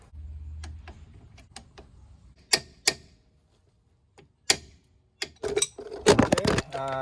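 A wrench turns a 17 mm nut during a front brake job on a Mazda 3, making soft ratcheting ticks and creaks followed by a few sharp metallic clanks. The sounds are close and irregular, and a rattle of tools comes near the end.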